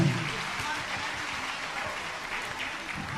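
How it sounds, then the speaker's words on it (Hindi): A crowd at a Jain religious gathering applauds loudly and steadily, a continuous wash of clapping with a few stronger bursts near the start. "ऐसे परिवार के सम्मान में दोनों हाथ उठा करके जोरदार ताली बजाएं"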